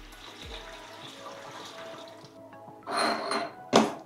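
Tap water runs over blanched tomatoes in a kitchen sink, coming through as two short splashing bursts and a sharp final gush after a stretch of low background noise.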